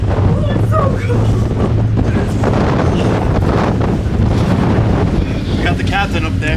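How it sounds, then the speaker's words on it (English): Strong wind buffets the microphone at an outdoor tuner car show in New Jersey on a cold day, a loud continuous roar throughout with voices faintly underneath. "Oh my god, it's windy, boy."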